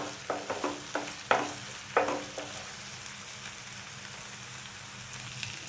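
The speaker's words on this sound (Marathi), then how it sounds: "लसणीचा कच्चा वास सगळा जाईपर्यंत आपल्याला परतून घ्यायचं" Ginger-garlic paste being sautéed and stirred in a pan for a Malvani yam dish, a soft sizzle with a few spatula scrapes and taps early on, then a quieter steady frying hiss.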